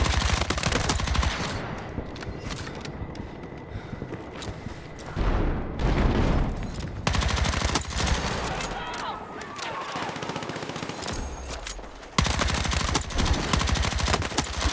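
Rapid automatic gunfire from a low-recoil gun in Battlefield 6 multiplayer, with long loud bursts and brief pauses between them, and a boom around the middle.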